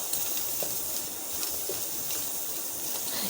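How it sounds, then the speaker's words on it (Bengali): Coarsely cut onion fries in hot oil in a wok on the stove, giving a constant soft sizzling hiss that stays fairly even from start to finish. "পেঁয়াজটা এখন আমি ভালো করে"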